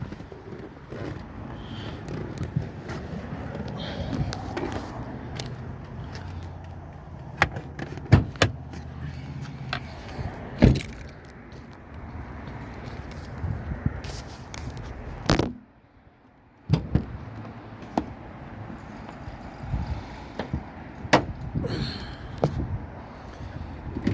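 Someone climbs out of a 2016 Chevy Silverado 1500 LTZ pickup, with door and body thumps and rustling over steady low rumble, then a brief quiet gap before more clunks, likely the hood being released and lifted.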